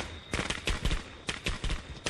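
Firecrackers from Friday the 13th The Game go off as rapid bursts of sharp pops in quick clusters, fairly close, with no one speaking.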